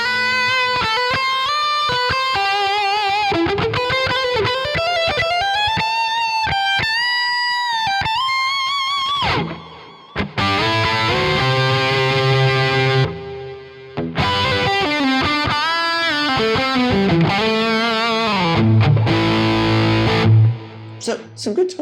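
Distorted electric guitar solo played through a Quad Cortex channel 3 solo preset, loud and continuous with fast melodic runs, sustained bends and held notes, plus a few brief pauses between phrases.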